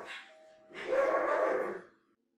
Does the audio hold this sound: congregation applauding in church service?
no